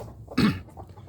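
A single short hen cluck, close and fairly loud, with faint background noise before and after.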